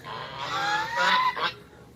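Pet ducks honk and quack loudly at close range while being fed, a short burst of two or three nasal calls with no talking.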